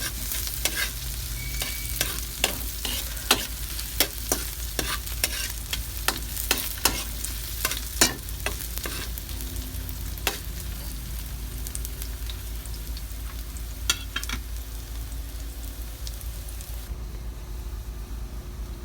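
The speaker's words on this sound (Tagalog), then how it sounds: "ingredients natin, luya, sibuyas at bawang. Gisa muna natin." Ginger, onion and garlic sautéing together in a pan, a steady soft sizzle with repeated sharp scrapes and clacks of a spatula stirring, close and moderately loud, with no talking.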